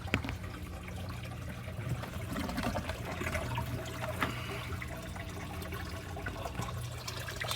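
Water drains steadily from a compact hydroponic flood and drain tank, a soft continuous trickle and gurgle at low volume.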